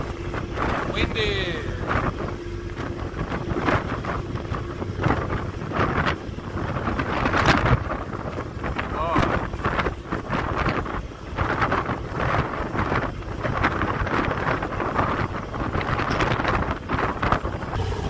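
Strong wind buffets a microphone on a New York ferry ride between Long Island City and East 34th Street, a loud continuous roar with gusty bursts and engine and water noise underneath throughout.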